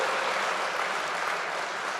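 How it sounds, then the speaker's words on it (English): Applause from an audience at an Iowa political rally, a dense, steady wash of clapping that holds at an even level throughout, with no voices standing out. "applaud me being wrong, please"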